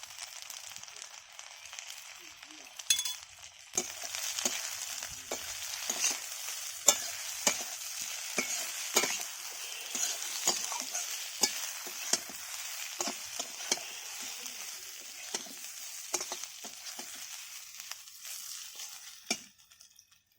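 Spices for an okra, potato and fish curry fry in a pan with chilli and turmeric powder, a constant quiet sizzle punctuated by many irregular spoon scrapes and taps, close up.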